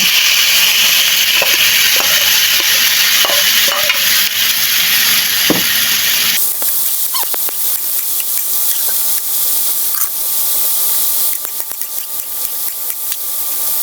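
Vegetables stir-fry in a hot pan for pancit bato, giving a loud, steady hiss and sizzle with scattered clicks of stirring; the sizzle drops in intensity partway through but keeps crackling.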